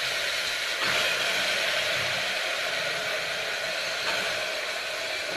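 Ginger garlic paste sautéing in a hot pan, a steady loud sizzling hiss that carries on unbroken, with slight swells in intensity and no voices over it.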